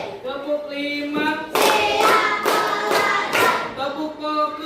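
A classroom of students claps in unison in a counted rhythm, sharp bursts of group clapping close by, with a voice and held tones sounding before and after the claps.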